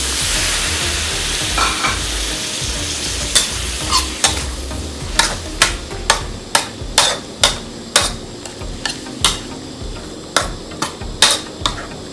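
Squirrel stir-fried with pickled bamboo shoots in a pan, a steady sizzle under a run of sharp, close clacks of a spatula scraping and striking the pan, coming in quick irregular bursts.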